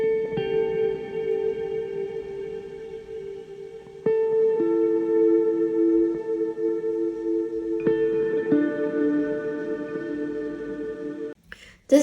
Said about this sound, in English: I added the last guitar melodies to